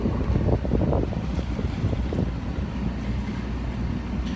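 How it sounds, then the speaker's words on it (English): A powerboat on a lake on a wet, foggy day near Milwaukee, heard as a constant rushing of wind and water with a low engine rumble underneath. "It's just a wet day on a powerboat."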